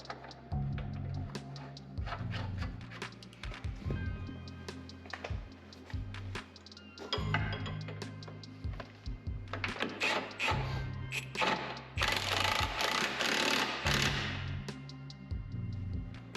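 Hand tools tighten the lower arm nut on an MK7 Ford Transit during a suspension arm replacement, producing steady close clicking and metallic ratcheting over a low background rumble with no speech.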